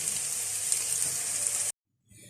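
Beef Bihari boti masala frying in a pan, a loud, steady close sizzle with crackling spits that cuts off abruptly, then faint quieter noise.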